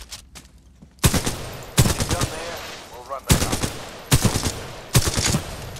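Sniper rifle shots from the Titanfall 2 video game, five loud sharp reports spaced about a second apart, each followed by a brief ringing tail, with quieter game effects between them.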